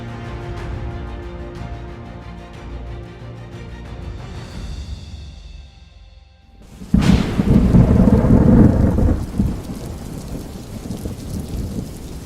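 An Amazon rainy-season thunderstorm: a sharp, loud thunderclap bursts in after a quieter stretch of tonal sound, then rolls into sustained heavy rumbling with steady rain.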